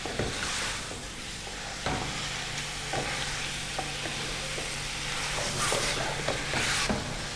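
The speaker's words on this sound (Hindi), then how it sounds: "गोश्त को हमने 5 से 6 मिनट तक मीडियम फ्लेम पर भून लिया है।" Mutton with ginger garlic paste fries over a medium flame, a continuous close sizzle broken by repeated scraping and clacking strokes of stirring in the pot.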